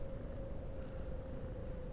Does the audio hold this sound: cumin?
no